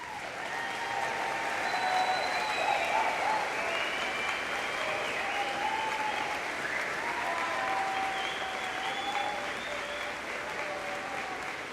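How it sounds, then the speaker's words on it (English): Sustained applause from a large crowd at a graduation ceremony, steady and full for the whole stretch, with faint voices and cheers mixed in. "Thank you for that rousing applause."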